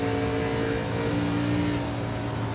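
Race car engine at Watkins Glen in a K&N series racing game, a steady loud in-car drone holding throttle with a smooth, sustained tone and no voices.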